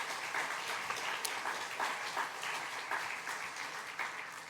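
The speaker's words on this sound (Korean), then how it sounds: "먼저 여러분 환영의 박수 한번 하겠습니다." An audience at a university chapel worship service gives a welcoming round of applause, steady dense clapping sustained throughout at moderate distance with no talk over it.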